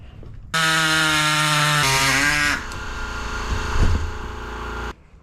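A power tool whines loudly as it trims a piece off an ADV 2-inch Bronco fender, a harsh high-pitched cut lasting about four seconds, its pitch dipping under load before settling into a rougher grind and stopping.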